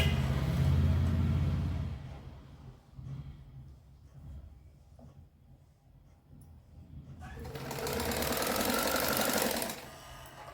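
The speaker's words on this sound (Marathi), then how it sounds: "ही पट्टी अशी शिवायला सुरुवात करायची" A sewing machine stitches a fabric strip for pants, running in two bursts at the start and near the end with a quieter stretch of rattling in between.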